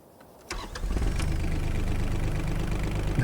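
A vehicle engine in Farming Simulator 25 cranks and catches after a brief quiet moment, then settles into a steady, loud low-pitched idle rumble that continues to the end.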